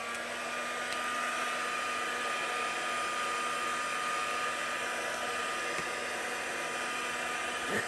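Steady, loud whooshing blast of a handheld heat tool warming craft foam, a continuous broadband roar with a faint hum running unbroken throughout.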